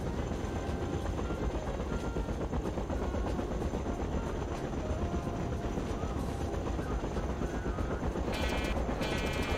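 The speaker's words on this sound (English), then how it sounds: "I was running towards the other helicopter that flew over me" Helicopter in the video game Battlefield 2 passing overhead, a dense rotor chop with steady rhythmic beating and loud engine noise, constant over the span, with no talk.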